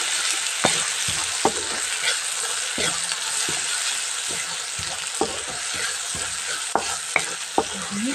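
Chilli, coriander and cumin powder with turmeric sizzle steadily in a pan for a potato and button mushroom gravy, with frequent sharp scrapes and taps of a spoon stirring close up, and no talking.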